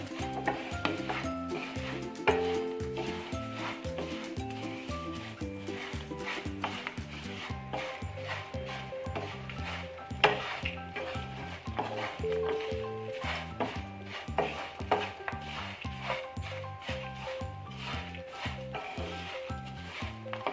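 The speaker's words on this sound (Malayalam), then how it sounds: "ഇത് നന്നായിട്ട് തന്നെ മിക്സാക്കി എടുക്കണം." A spoon stirs and tosses flattened rice (avil) in a pan while making crispy spicy avil pori, giving soft, continuous scraping and rustling under steady background music.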